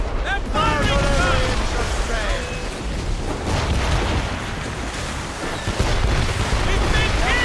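Cannon fire from enemy ships during a naval battle in Assassin's Creed Rogue, heavy booms and rumbling blasts over dense battle noise, with crew voices shouting over the din throughout.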